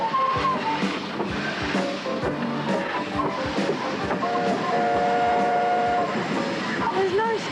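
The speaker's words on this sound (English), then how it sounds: "This steam locomotive weighs 67 tonnes and is the biggest steam loco of this gauge ever made." A 67-tonne steam locomotive on a narrow gauge railway chugs steadily with rhythmic exhaust beats, hissing steam and rattling wagons, loud and close throughout, with a whistle-like tone sounding midway.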